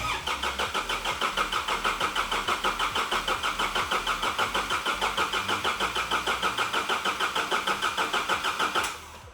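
A Nissan Patrol engine cranks after reinstallation, a close, loud, rapid and even rhythmic churning of the starter that runs steadily for about nine seconds before stopping abruptly.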